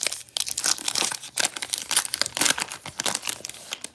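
A foil pack of Topps Heritage baseball trading cards crinkles and tears as it is opened up close, giving a quick run of irregular crackling bursts.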